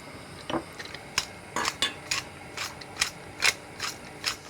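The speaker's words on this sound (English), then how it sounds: "I'm just going to stir that in until it's all melted and it's just a lovely sauce" A utensil stirs cheese sauce in a pan, giving about a dozen separate scraping clinks in an uneven rhythm, close and clear over a quiet background with no speech.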